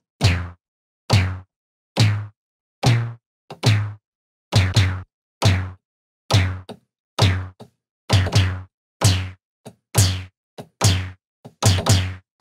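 A punchy snare from a Korg MS-20 analog synthesizer repeats steadily, roughly one sharp crack per beat with quick decays and silence between, loud and dry.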